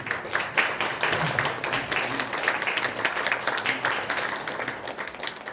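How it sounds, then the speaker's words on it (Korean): A lecture audience at a YMCA leaders' training event gives sustained, dense applause to welcome a speaker, clapping steadily throughout at close range. "큰 박수로서 모시겠습니다."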